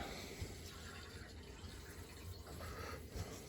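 Water rushes steadily through household plumbing as the supply is turned back on in a basement boiler room, a faint continuous hiss with soft occasional knocks.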